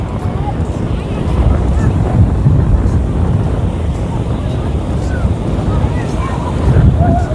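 Sea waves wash continuously onto a crowded beach near the Bhavani temple at Katpar, Mahuva, with gusting wind buffeting the microphone. The surf roars loud and close, swelling in places, with voices faint in the mix.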